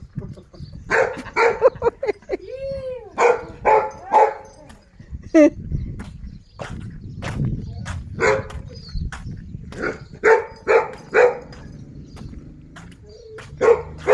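Dog barking repeatedly in bursts, fairly close, mixed with people talking and shouting around an outdoor yard while waiting for a concrete truck.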